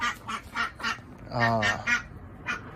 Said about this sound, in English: We're going to put in more ducks.